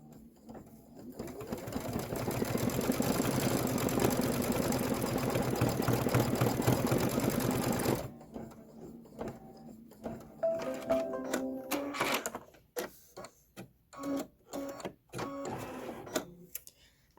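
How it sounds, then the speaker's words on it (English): Embroidery machine stitching a black flower center: about eight seconds of fast, steady rattling needle stitching, then slower stop-start bursts of short mechanical chatter separated by quiet gaps. "go ahead and stitch out the black flower center"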